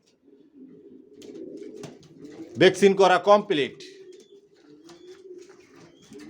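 Racer pigeon chicks of a Johnson long-distance line give soft, close cooing murmurs. A person talks briefly partway through.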